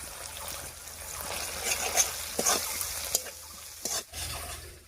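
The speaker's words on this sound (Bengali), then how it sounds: "গুঁড়ো মশলাগুলো দিয়ে খুব ভালো করে মিশিয়ে নিয়েছি।" A spoon stirs soybean curry in a pan with turmeric, red chilli powder, black pepper and salt. Soft scrapes and wet clicks repeat against a low background sizzle, close and fairly quiet.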